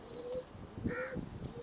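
Pigeons give a few faint, soft coos, brief and low, over quiet background noise.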